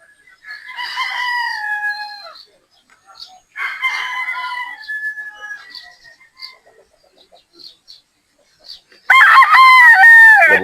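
A gamecock rooster crows loudly and close by near the end, following a stretch of quieter bird calls and clucking.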